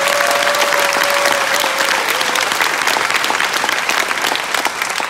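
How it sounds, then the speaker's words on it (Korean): An audience at a large seminar in a convention hall bursts into loud, continuous applause, dense overlapping clapping holding steady for several seconds with a faint tone briefly beneath it. "초대하실 분만 박수 쳐보세요."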